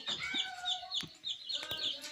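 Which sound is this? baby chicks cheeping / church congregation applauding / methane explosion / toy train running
baby chicks cheeping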